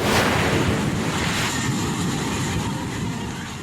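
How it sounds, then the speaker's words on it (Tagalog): A flooded river in Tibuli, South Cotabato rushes past a hanging bridge with a loud, steady roar of broadband water noise that stays dense and unbroken throughout, with no voices. "Hinahambalos ng rumaragas ang tubig ng ilog sa Tibuli, South Cotabato ang hanging bridge na yan."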